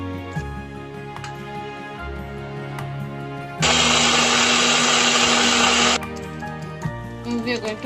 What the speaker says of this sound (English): we will transfer the contents to a mixie in order to grind it